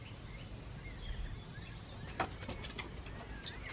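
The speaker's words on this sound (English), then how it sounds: "we can hear the birds chirping" Birds calling outside on a quiet patio, soft coos and short chirps scattered over faint background hum, fairly distant and with no talk.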